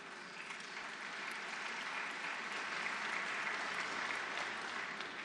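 A large audience applauds during a speech at a plenary session in St Petersburg, a dense steady wash of clapping that stays even and sustained from start to finish, heard from within the hall.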